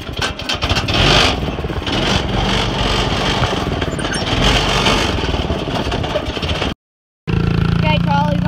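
A dirt bike engine revs loudly and steadily, harsh and close, filling the clip, with a brief dropout near the end before the engine noise returns; people seem to talk under it.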